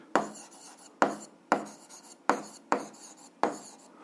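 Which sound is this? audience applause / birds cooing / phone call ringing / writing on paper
writing on paper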